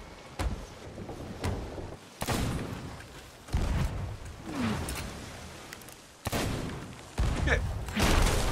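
Bursts of video game gunfire and thuds in several separate volleys, with brief quieter gaps between them.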